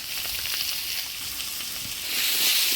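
Raw papaya with turmeric and salt fries in oil for a rui fish curry, sizzling steadily and close up while being stirred, the hiss swelling louder near the end.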